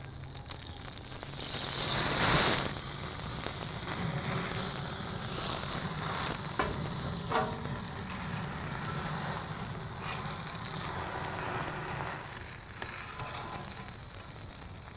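Tomahawk ribeye steak sizzling over direct grill heat with basting liquid, a sustained hissing sear that surges loudly early on, then holds steady with occasional pops and crackles, close and without talk.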